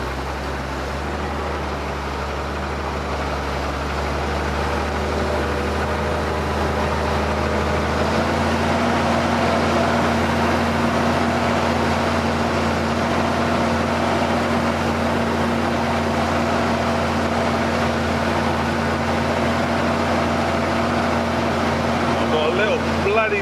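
A tractor ploughs an awkward field, its engine droning low and steady for the whole stretch, rising slightly partway through, with no speech over it.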